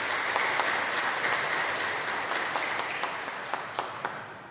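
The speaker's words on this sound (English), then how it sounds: "let's give a round of applause" Applause rings out in a church as people clap for a student-designed pin, a steady mass of clapping with a few crisp claps popping out, gradually tapering off toward the end.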